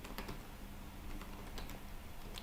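Typing on a computer keyboard: quiet, close key clicks and taps come in a loose, irregular rhythm with no talking.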